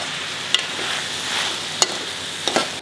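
Vegetables fry in a home kitchen pan, giving a steady close sizzling hiss with a few sharp clicks and taps, likely from stirring, scattered through it.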